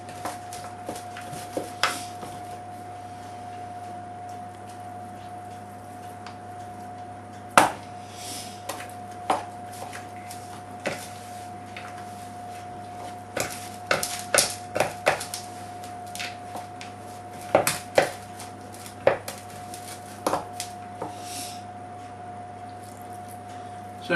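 A spoon works bannock dough in a bowl, giving scattered clinks and soft scraping knocks that come in uneven bursts over a steady low hum, close and moderately loud, with no voices.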